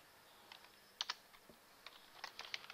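Typing on a computer keyboard, a handful of light, uneven clicks in small bursts, fairly close but quiet, with no talking.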